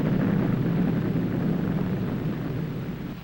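Deep, sustained rumble of a nuclear explosion, heard in a 1963 Department of Defense film about fallout: a loud, broad roar that stays steady and then slowly fades, with no voices.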